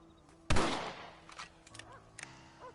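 A single sharp rifle shot rings out in Red Dead Redemption, loud and close, followed by a fading tail and a few faint clicks and small sounds, with no one speaking.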